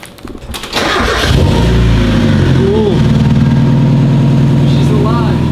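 Stanced Mazda Miata engine cranking briefly and then catching, settling into a loud, steady, rumbling idle up close, with a few faint squeaky tones riding over it.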